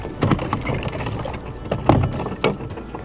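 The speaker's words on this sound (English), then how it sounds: "I'm gonna hop up here to my front deck, drop my trolling motor down" Clunks and knocks on a fishing boat's front deck as a trolling motor is dropped down into the water, a few separate thuds over a low outdoor background with no talking.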